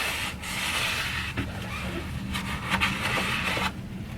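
Steady rubbing and scrubbing on the rusty hub of a Kawasaki KZ400 motorcycle wheel, a continuous close abrasive scraping with short bursts of harder strokes, no talking.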